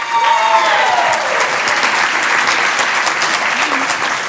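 Loud applause from an audience at a South Florida Muslim organizations' event honoring gold sponsors, a close, dense burst of clapping that holds steady for several seconds.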